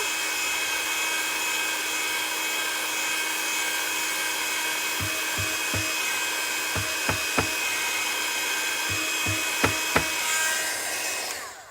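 A heat gun blows steadily over embossing powder in a card-making craft session, a constant close whirring hiss with a few faint clicks and taps near the end, no talking.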